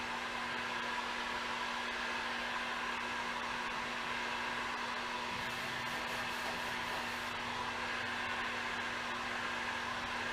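A heat gun or blower warms the back side of a 1939 Ford Deluxe fender before tapping, producing a steady close whooshing roar with a constant tonal hum throughout.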